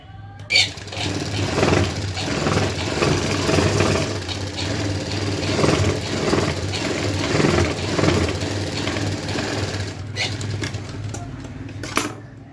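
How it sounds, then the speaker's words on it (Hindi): Sewing machine stitching the edge of a blouse, its motor whirring steadily and close for about ten seconds before stopping, with a few clicks at the end. "इसे पलट कर किनारे की सिलाई लगाएंगे"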